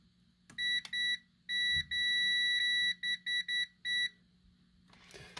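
A multimeter in continuity mode beeps while probing a circuit trace on a faulty TurboGrafx-16 controller board, giving a run of sharp, steady electronic tones, some long and some short stuttering pulses, loud and close over faint room hum.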